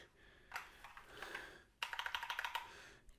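Fast typing on an Epomaker AK84s mechanical keyboard with silicone keycaps, a close run of muffled clacks in two bursts separated by a short pause.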